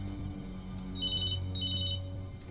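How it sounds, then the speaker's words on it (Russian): A telephone rings inside the video game Beyond: Two Souls, two bursts of bright trilling ring over a low steady hum of game ambience, fairly faint and with no voices. "Телефон."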